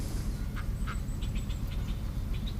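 A limping duck with a suspected hip problem quacks in a few short, faint calls scattered through steady low background noise.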